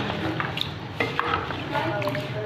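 Bhindi gosht, okra and meat with onions, being stirred in a pot over medium heat, with soft scraping and clinks of a spoon against the pan over a faint steady sizzle.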